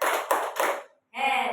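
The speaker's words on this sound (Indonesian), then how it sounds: "Tepuk salut untuk Bu Haja." A group gives a rhythmic salute of claps for Bu Haja at a curriculum advocacy gathering. A short burst of brisk, close clapping is followed by a brief pause and a voice.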